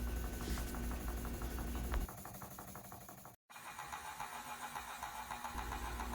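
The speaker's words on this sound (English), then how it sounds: "This is a small twin-cylinder marine engine." A small twin-cylinder steam marine engine runs with a steady, rapid mechanical beat and hiss. It is close and fairly loud, with a brief dropout midway.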